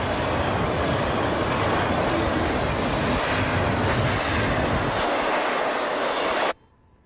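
A Conrail freight train with 13,000 horsepower up front, hauling 4,500 tons and 7,100 feet of cars at near 65 mph, rushes past in a loud, dense roar of wheels and rail noise that cuts off abruptly near the end.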